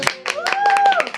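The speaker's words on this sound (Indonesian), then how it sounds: "Tepuk tangannya mana?" A small audience at a live stage event claps in quick uneven bursts, individual hand claps standing out close by, while a voice sounds briefly over them.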